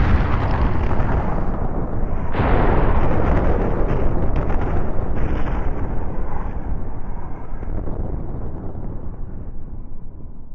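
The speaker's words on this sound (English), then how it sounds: "the bomb detonates in midair." A nuclear bomb detonating in midair about 500 meters above a city, a sustained, heavy roaring blast with a sharp surge near the start and a long rumbling body that fades slowly.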